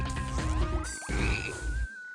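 Frogs croaking in the video game BattleBlock Theater, a loud run of rhythmic croaks and chirps over game music, with a rising tone near the end.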